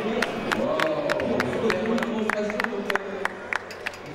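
Festival audience at a spinning top demonstration applauds and cheers, a dense crowd with sharp individual claps over steady murmuring voices, sustained and fairly close throughout.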